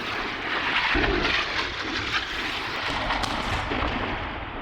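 A dense, continuous roar of distant airstrike blasts and rumbling in a Lebanese city centre, with no clear gaps, heavy explosions echoing across the city.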